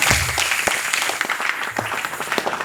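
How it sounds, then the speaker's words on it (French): A church congregation breaks into sustained applause and acclamation for the Lord, dense steady clapping throughout with scattered cheering, no speech over it. "Pour moi, acclamer très fort le Seigneur."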